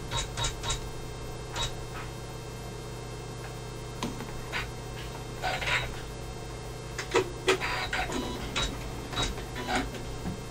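An embroidery machine stitches black thread onto black fabric, a steady mechanical hum with faint rapid ticking and occasional sharper clicks, close by and alone.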